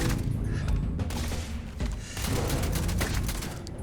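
Gunfire against robots in Starfield, bursts of loud impacts and booms tumbling together in uneven volleys, close and heavy, with scattered mechanical clanks and no voices.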